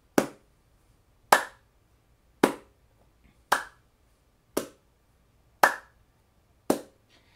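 Seven sharp, evenly spaced percussive hits, like claps or snaps, in a steady pulse with quiet gaps between them; no low boom is evident.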